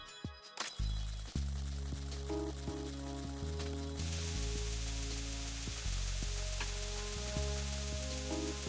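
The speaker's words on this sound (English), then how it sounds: "Use the coolant spray." Coolant spray hisses steadily in Metal Gear Solid 2: Sons of Liberty, a broad continuous spray sound that carries over tonal background game music for several seconds, with no one talking.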